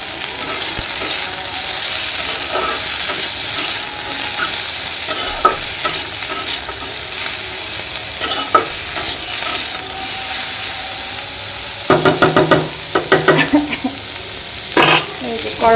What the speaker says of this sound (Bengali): করলা ভাজি করবো।